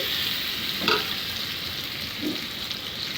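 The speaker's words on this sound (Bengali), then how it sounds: "মাংসটা ভালো করে নেড়ে চেড়ে এরপরে ডেকে দেবো মশলার সাথে ভালো করে নেড়ে ছেড়ে দেবো" Marinated mutton frying with lightly browned onions in a pot, a continuous close hissing sizzle with a couple of brief scraping stirs.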